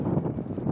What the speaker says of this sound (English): Damn, it's windy. I hope the audio is not really bad.